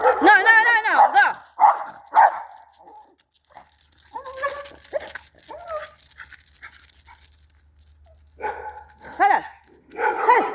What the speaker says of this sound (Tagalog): May mga asong bala.